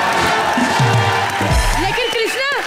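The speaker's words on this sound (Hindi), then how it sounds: "जोरदार तालियां हो जाएं" Studio audience on an Indian TV comedy show applauding and cheering, a dense continuous wash of clapping and crowd noise with a few whoops rising near the end.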